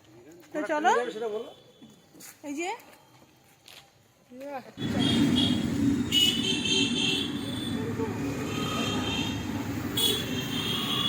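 People talk briefly in a quiet setting at a station at night, then a loud rumbling train rolls in and keeps roaring and rattling close by.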